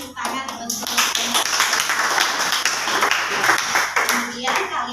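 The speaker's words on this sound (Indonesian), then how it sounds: "Beri tepuk tangan teman-teman" Classmates in a school classroom clap loudly after a student's persuasive speech, a brisk, dense burst of many hands clapping close by, continuing steadily for several seconds.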